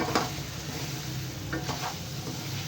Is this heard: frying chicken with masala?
yes